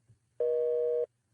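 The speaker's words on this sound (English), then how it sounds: "Dial. It's busy." A single short telephone busy-signal beep, a steady electronic tone lasting just over half a second, clear and alone against faint background hiss.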